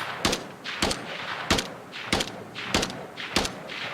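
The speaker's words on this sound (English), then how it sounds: "he's shooting at me" AI enemy firing a gun in an Unreal Engine 5 shooter game, sharp loud shots repeating at a steady pace of roughly one every two-thirds of a second, with no talking.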